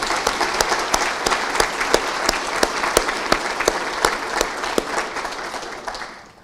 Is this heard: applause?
yes